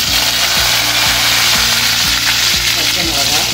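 Mustard seeds and urad dal fry in hot oil with a loud, continuous sizzle and crackle, while regular low knocks repeat about twice a second underneath.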